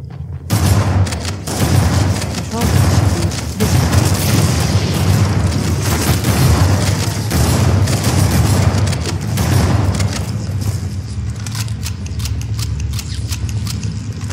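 Frag grenade explosions in Halo: Combat Evolved, loud and dense: booming blasts and gunfire-like bursts overlap in a continuous barrage that eases slightly toward the end, with no voices.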